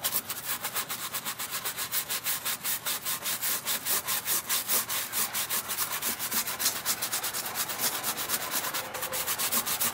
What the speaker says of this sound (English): We'll take our brush and get a little closer and start scrubbing the white wall.